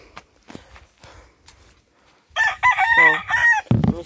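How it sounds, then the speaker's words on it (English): A pure yellow-legged Hatch gamefowl breeding rooster gives one loud, close crow in the second half. Quiet shuffling and faint handling noises come before it, and a short scuffle follows. "That is my main breeding rooster right there"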